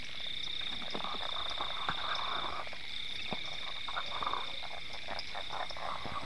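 A dense chorus of frogs croaking and trilling outdoors at night in rural Thailand, a steady high-pitched calling with layered croaks throughout, no voices.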